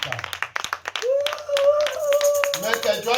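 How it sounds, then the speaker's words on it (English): A church congregation claps in quick rhythmic bursts, then a loud sustained voice rises over the continuing hand claps. "If you are clapping unto the Lord,"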